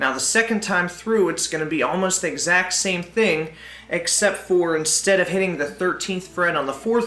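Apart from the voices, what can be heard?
No distinct noise like a dog, phone or traffic.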